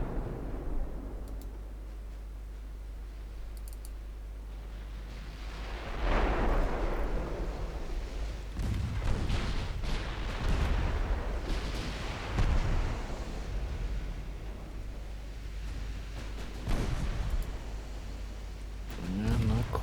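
Naval guns fire at a battleship in Ultimate Admiral Dreadnoughts, with booming salvos and rumbling blasts over a continuous low drone, several heavy reports spread across the stretch.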